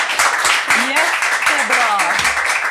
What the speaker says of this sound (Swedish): Nämen, stor applåd åt Robin.